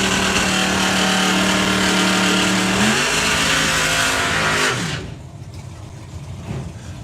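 A drag racing car at Dragstalgia 2025 roars loudly with a strong harmonic engine note that drops in pitch twice before the sound falls away abruptly to a faint, distant rumble.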